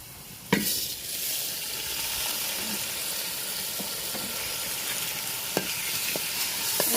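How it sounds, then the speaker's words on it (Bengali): Steady sizzling and stirring of polao rice with fried chopped onions in a hot pan, with occasional sharp scrapes of a spatula against the metal, continuous and close. "ভালোভাবে ভেজে নেব।"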